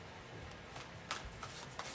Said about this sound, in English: let me just finish shuffling and cleansing all energies from